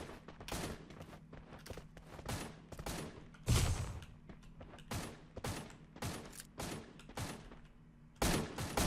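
Pistol shots crack out in rapid, irregular bursts during a Free Fire Max firefight, with one heavier blast midway and another near the end, all fairly close and loud against a busy game background.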